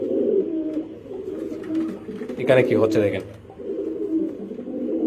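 Pigeons cooing at a pigeon farm, a steady low murmur of many birds running through the whole stretch while someone talks briefly over it in the middle.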